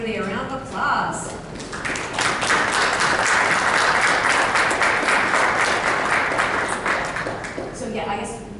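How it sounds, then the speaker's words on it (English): Applause from the audience at an Alpha Sigma Lambda honor society ceremony, building quickly into sustained clapping from many people for several seconds, with voices heard at the start and as it fades. "let's give everybody a round of applause"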